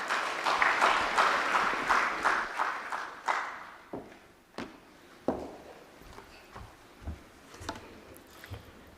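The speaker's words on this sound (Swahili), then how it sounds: "Makofi mengi kwake." An audience at a Tanzanian private sector federation event breaks into loud, dense applause that peaks at the start, then thins into scattered individual claps that fade over several seconds.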